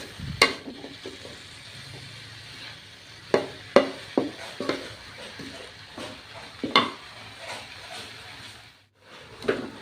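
A spatula stirs napa cabbage and sausage in a hot pan, making irregular scraping clinks and knocks over a low, continuous sizzle, close by and with no talking.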